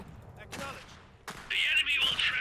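Enemy cannon artillery fire in the mechanized war game Iron Harvest: two sharp broadband booms about a second apart, then a loud sustained roar of shelling and gunfire, with no talk over it.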